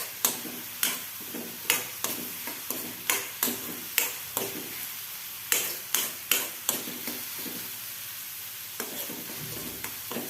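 Dry red chillies and a bay leaf frying in a small amount of hot mustard oil, with a steady close sizzle broken by repeated sharp stirring clicks and spoon taps against the pan throughout.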